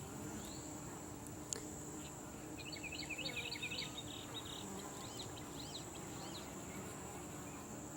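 Honeybees buzz around a hive that was newly hived, a steady, soft drone with faint high whines of passing bees over low outdoor rumble, no speech.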